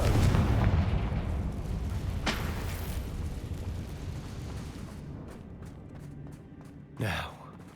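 A Confringo blasting spell goes off in the Hogwarts Legacy game, a loud broad blast at the start that rumbles and decays over several seconds, with a few sharper cracks and a later whooshing burst near the end.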